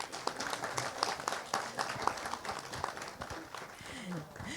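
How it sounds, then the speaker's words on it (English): Audience clapping at a feedback session for online course learners, a modest, fairly quiet round of applause with distinct individual claps and some voices mixed in. "So a round of applause for all of them."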